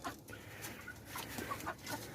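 Black naked-neck chickens clucking in a farm pen at feeding time, a steady scatter of soft clucks and short calls near the listener over low background noise.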